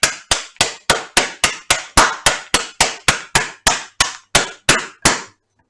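Steady, evenly spaced heavy thuds of a mallet pounding meat, about sixteen sharp blows in a row, loud and close, then silence.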